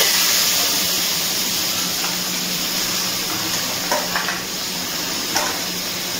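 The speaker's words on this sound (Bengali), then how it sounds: "সেই মাংসটা এবার এই পেঁয়াজের মধ্যে দিয়ে দেবো।" Washed mutton drops into hot fried onions in a home kitchen for a mutton korma and hisses with a steady, close sizzle. Occasional scrapes of stirring break through, and there is no talk.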